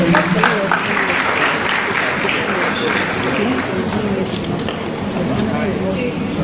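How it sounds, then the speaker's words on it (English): Audience applause in a classroom or lecture hall, a steady wash of clapping held at an even level throughout, with voices mixed in under it. "Can you give a round of applause, please?"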